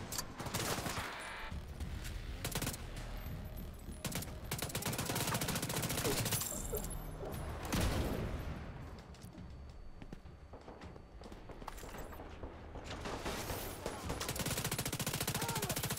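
Rapid SMG bursts crackle through a firefight in The Division 2, with dense overlapping gunfire and shorter volleys as the fighting swells and eases, plus footsteps and game sounds mixed in.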